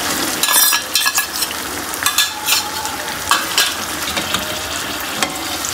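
Chicken white karahi with cream cooks in a pan, giving a constant close sizzle with repeated scraping and stirring strokes throughout.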